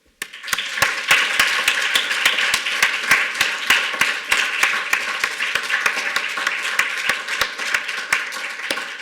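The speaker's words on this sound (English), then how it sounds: "So I hope everyone will join me in a warm round of applause for Professor Sue Holmes." An audience at a university inaugural lecture gives a sustained, warm round of applause, with dense clapping from many hands and a few sharp, regular claps standing out near the microphone.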